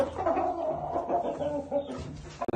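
Purebred roosters offered for sale clucking and making short throaty calls at close range, with a few quick rustles toward the end.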